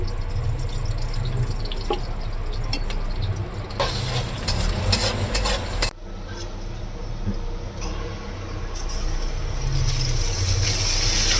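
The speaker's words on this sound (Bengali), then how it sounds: "প্রথমে পেঁয়াজ কষি" Onions sautéing in a pan for a rice-and-lentil khichuri, a continuous low sizzle with stirring scrapes and a louder burst of sputtering midway; no talking.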